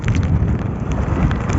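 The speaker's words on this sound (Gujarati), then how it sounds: "વરસાદ ચાલુ થઈ ગયો છે" Monsoon rain falls hard outdoors at a roadside, a loud, dense, unbroken wash of noise with rough buffeting like wind on the microphone.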